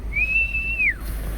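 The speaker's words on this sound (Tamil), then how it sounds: "ஒவ்வொரு டிராஃபிக் ஆகும்போது நாங்க இப்படிதான் விசில் அடிச்சு எங்களை நாங்களே சந்தோஷப்படுத்திப்போம்" A single sustained human whistle rising slightly then sliding down at the end, clear and close, alone over a low hum during a drive through Sathyamangalam forest traffic.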